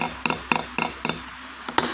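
Small hammer taps pushing metal over seeded stones during jewelry stone setting, six sharp metallic strikes roughly a quarter second apart, each leaving a brief bright ring, close and clear with no talk.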